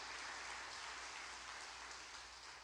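Steady applause from a church congregation, a dense wash of clapping that fills the space and slowly eases off toward the end.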